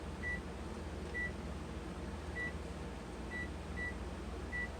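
Short, high electronic beeps from a microwave timer sound at irregular intervals over a steady low hum, with no one speaking.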